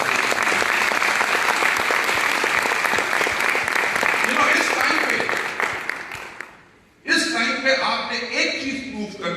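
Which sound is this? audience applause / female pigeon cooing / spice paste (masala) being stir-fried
audience applause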